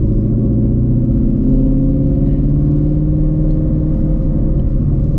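A 2020 Ford Shelby GT350 idles with a deep, steady, loud engine rumble as it pulls up. The burble stays close and continuous throughout, with no talking.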